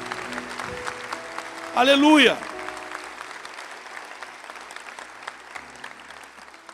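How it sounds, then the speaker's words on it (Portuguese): A church congregation at a Sunday morning service claps briefly for the Lord, a short burst of applause rising under a loud voice, with talk and music-like tones around it. "Se você quer dar um forte aplauso ao Senhor"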